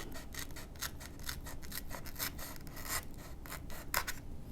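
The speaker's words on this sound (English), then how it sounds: "using a razor blade, cut the piece that is already glued down" A razor blade trims a glued foam piece on a model aircraft with quick, repeated close scraping strokes at a quiet level.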